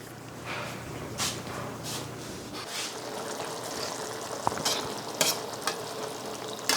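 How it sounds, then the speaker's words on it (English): Meat sauce simmering and sizzling in a pan while it cooks for a pasta meal, a steady close frying hiss with occasional soft pops and stirring scrapes, no talking. "Now I'm simmering, it's coming along nicely."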